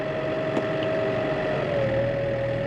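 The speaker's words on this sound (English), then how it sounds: "So get the tractor moving first and then put him in gear." A farm tractor engine runs steadily with a constant mid-pitched hum and a slight pitch shift as it pulls forward in a farmyard, close and continuous.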